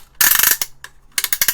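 Switches on a power resistor substitution box click in two loud bursts of rapid, sharp mechanical clicks close to the microphone, with a brief quieter gap between them.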